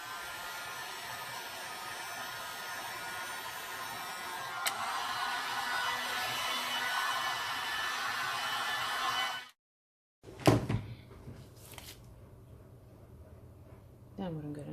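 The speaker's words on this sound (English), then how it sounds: "just let me just hit it a little bit with the trusty heat gun" A heat gun blows hot air over white epoxy paste in a resin art piece, producing a steady, loud whooshing roar that cuts out abruptly, followed by a few handling knocks and quieter bumps.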